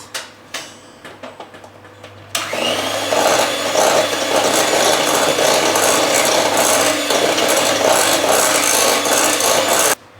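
An electric mixer blends dry ingredients into coconut walnut cake batter. A few light taps come first, then the motor starts with a loud, steady whir that runs until it cuts off near the end.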